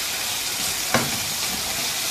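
Mutton liver kaleji masala fries in a pan with a steady, close, broadband sizzle and one brief stirring knock.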